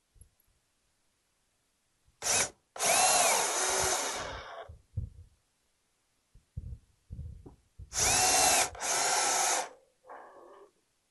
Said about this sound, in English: you just have to stop drilling when it's time to stop drilling